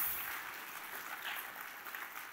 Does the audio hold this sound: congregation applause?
yes